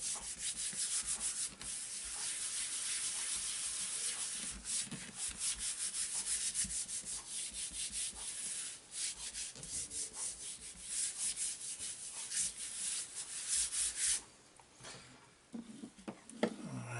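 Paper rubbed by hand across a Gelli printing plate gives a steady dry scratchy rubbing, near and continuous for about fourteen seconds before briefly easing off and then resuming.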